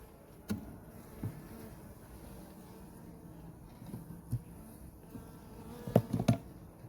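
Honey bees hum around an open beehive during a frame inspection, in a soft, steady buzz that continues throughout, with occasional close knocks and clicks from handling the wooden frames.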